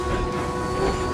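Two toy-railroad locomotives roll in pulling a train, a steady close rumble of rolling wheels and machinery with a faint high whine, no voices.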